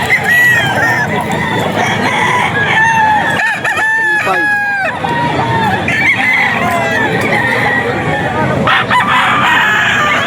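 A Nelson Black straight-comb rooster crows several times at a busy poultry auction market, loud and near, with more crowing and clucking from other fowl and a crowd murmuring and people talking in the background.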